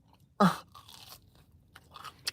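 One loud, close crunching bite into a Korean cheese corn dog, followed by a few quieter chewing and munching sounds, with no talking.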